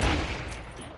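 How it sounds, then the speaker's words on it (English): Video game gunfire sounds in a brief, loud burst of shots that fades within a second. "We both started shooting up."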